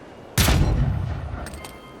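A rifle shot in the fantasy role-playing video game Avowed: one sharp, loud blast with a booming low tail, followed by a couple of fainter clicks.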